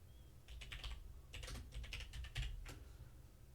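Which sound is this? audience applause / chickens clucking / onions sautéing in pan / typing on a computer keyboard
typing on a computer keyboard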